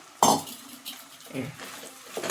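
Meal maker chunks go into a cooking pan of hot oil for a gongura pickle: a sharp metallic clatter up front, then softer scrapes and clinks of stirring, close and fairly quiet.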